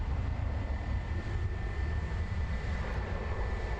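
Jet engine roar from a Qantas Boeing 737-800 doing a gas-and-go at Christchurch Airport, New Zealand: a loud, steady, broadband rumble with a thin whine above it, continuous and close throughout.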